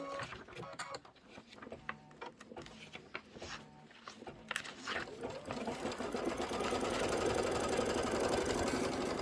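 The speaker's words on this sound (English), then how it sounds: "So right now we're stitching out the piecing template" An embroidery sewing machine stitching out a quilt piecing template, starting with scattered clicks and short bursts, then settling into a loud, fast, steady mechanical stitching rhythm for the last few seconds.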